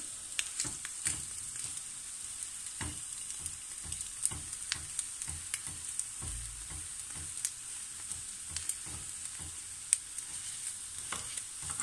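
An egg fries in a pan with a steady, close, crackling sizzle and light stirring scrapes over an even hiss, with no talking.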